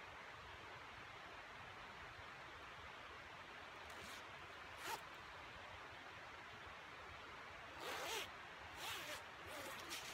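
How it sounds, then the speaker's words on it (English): Zipper on a wool sleeping bag being zipped up, several short rasping pulls near the end over a faint steady hiss, quiet and close with no voices. "So I'm gonna zip it up and show you how the zipper works."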